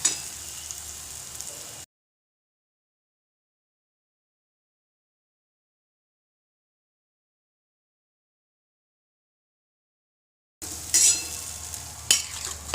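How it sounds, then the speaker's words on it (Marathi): Oil sizzles while a spatula stirs and scrapes a pan for brinjal bharit with dried fish, the frying heard briefly at the start and again near the end around a long stretch of silence. "छान तेल सुटेपर्यंत परतून घ्यायचं"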